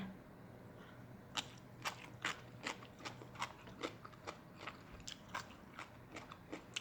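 Someone eating crab papaya salad, with soft, close crunching and biting in a steady chewing rhythm of repeated small crisp clicks at low volume.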